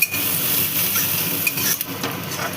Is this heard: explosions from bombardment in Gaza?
no